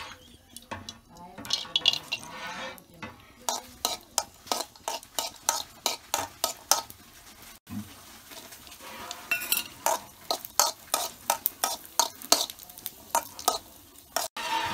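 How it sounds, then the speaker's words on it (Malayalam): Palada payasam stirred in a pot, repeated scraping and knocking of a spoon against the metal rim in a busy rhythm, with a faint background sizzle and voices at moments. "അവിടെ പായസം ഇളക്കിക്കൊണ്ടിരിക്കുന്നുണ്ട്."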